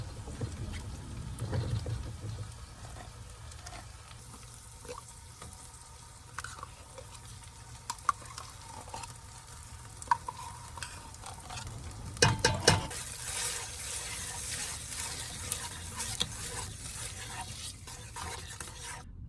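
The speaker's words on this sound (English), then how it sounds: "fry the tomato paste" Tomato paste fries and is stirred in a pan in a van kitchen, a continuous soft sizzle with scraping stirs and scattered clinks of the utensil against the pan, sharper knocks near the middle.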